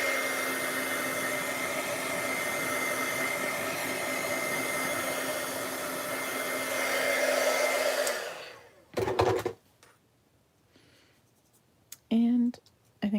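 A craft heat tool blows hot air over a craft piece to dry it, a loud steady whirring roar for about eight seconds that then cuts off, followed by brief bursts and a voice speaking.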